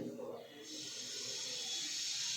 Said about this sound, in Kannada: ಕಾದಿರೋವಂಥ ಎಣ್ಣೆಗೆ ಒಂದೆರಡು ಪೀಸ್ ಚಕ್ಕೆ ಹಾಗೆ ಒಂದೆರಡು ಲವಂಗನ ಹಾಕ್ಕೊಂಡು ಎಣ್ಣೆಯಲ್ಲಿ ಫ್ರೈ ಮಾಡ್ಕೊತೀನಿ